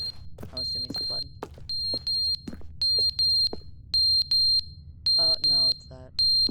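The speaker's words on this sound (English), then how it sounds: "The smoke detector." In The Stanley Parable, a smoke detector sounds insistent paired beeps, piercing and evenly spaced, over faint low hum and occasional sharp clicks.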